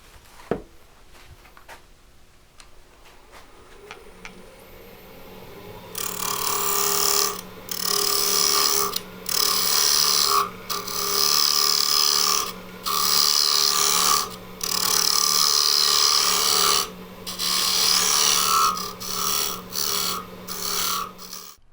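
Wood turns on an American Beauty lathe made by Robust Tools, shaping a tenon: a motor hums, then a loud scraping cut starts and repeats in bursts with short pauses between them.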